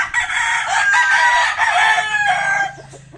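A rooster in a backyard chicken coop crows loudly and close by, one long drawn-out call that trails off, with faint clucking afterward.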